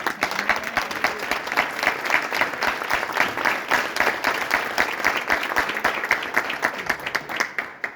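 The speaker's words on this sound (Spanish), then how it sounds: "te quiero dar otro aplauso" Sustained audience applause fills the room, a dense rapid patter of many hands clapping close by, steady and loud throughout with no talk over it.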